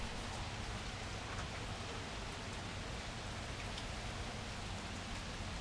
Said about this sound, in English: So it's currently raining right now.